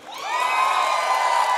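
Concert crowd at a live rock show in Milan rising into loud whooping and cheering, a sustained swell of many voices close and bright with little clapping audible.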